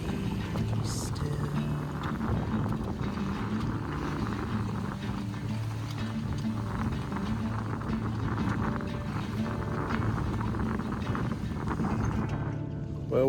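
Small sailboat sailing upwind on Salish waters, with steady rushing water and wind noise against the hull and a brief creak near the start.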